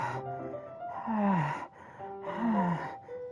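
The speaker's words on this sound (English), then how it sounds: "A sharp inhale, like someone is sucking the air through their teeth." Sharp breathy inhales with air sucked through teeth, two strained gasps close by, each rising then trailing off in a groan-like tone, with a pause between them and no speech.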